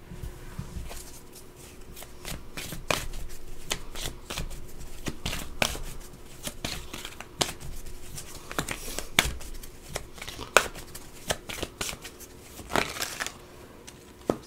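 Tarot cards shuffled and flipped out by hand, a run of crisp riffles, snaps and slaps at irregular intervals, close and fairly loud, with no voices.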